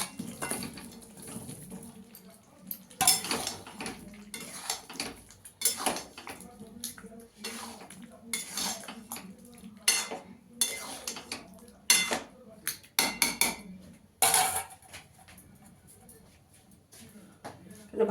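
Fried potatoes being stirred into spice masala with yogurt in a pan for vegetarian aloo dum, with clanking spoon-on-pan scrapes and clinks coming in irregular bursts close by.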